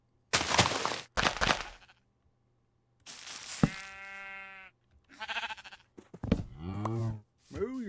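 In Minecraft, a sheep bleats several times in a row, with quavering cries broken by short pauses and interleaved with bursts of other game sound.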